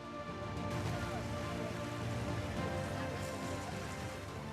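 Steady rain falls over a tent camp in Deir al-Balah, Gaza, a dense continuous hiss and patter on surfaces that holds evenly loud throughout with no voices.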